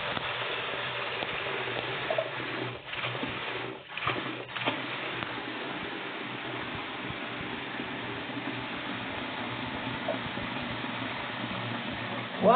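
Steady, hissing rush of high-pressure tap water pouring hard into a sink, broadband and continuous with a couple of brief dips, no voices.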